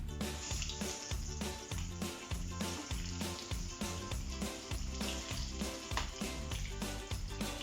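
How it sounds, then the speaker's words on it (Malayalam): Chicken pieces dipped in egg and breadcrumbs, Kerala style, sizzle steadily in hot oil, a close, even frying hiss running throughout. "നമുക്കിത് ഫ്രൈ ചെയ്തെടുക്കാം"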